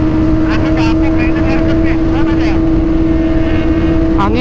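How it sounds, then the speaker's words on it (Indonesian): Roaring wind buffets a rider on a Kawasaki ZX25R motorcycle touring at speed on a highway, a dense steady rush over a constant engine drone, with a muffled voice faintly under it. "Anginnya ini lho."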